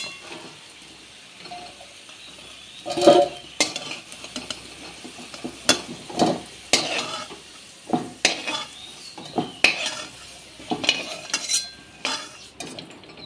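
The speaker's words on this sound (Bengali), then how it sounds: "তো আলুগুলোকে এরকম লাল লাল করে ভেজে নিতে হবে।" Potato pieces frying in hot oil in a kadai, with a continuous sizzle under repeated rhythmic scraping and clattering of a metal spatula against the pan, close and fairly loud.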